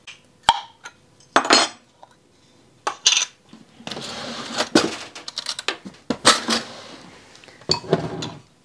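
Utensils scrape and clink against a bowl while peach preserves are broken up for a slow-cooker pulled chicken, giving irregular metallic taps and scraping strokes close by with no talk.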